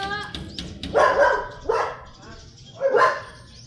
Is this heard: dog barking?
yes